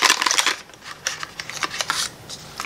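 A small pencil sharpener is shaken inside its plastic packaging, making irregular bursts of rattling and crinkling that are close and moderately loud, with quieter clicks between the shakes.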